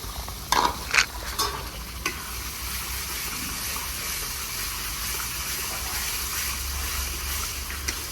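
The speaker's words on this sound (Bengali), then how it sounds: "2-3 মিনিট নেড়ে চেড়ে দেবো যাতে রসুনে কাঁচা গন্ধ চলে যায়" Steady sizzling of ginger garlic paste and green chilli paste frying in onions for prawn malai curry, with a few clinks and scrapes of stirring near the start, continuing evenly throughout.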